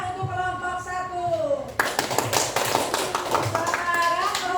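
Children in a fourth-grade classroom clap for group 1, a burst of brisk hand clapping that starts abruptly after a teacher's speaking voice and continues with voices chattering over it.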